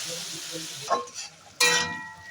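A little water hits frying masala for a red radish and pea dish, giving a sudden close hiss and sizzle after soft stirring, loud then slowly fading.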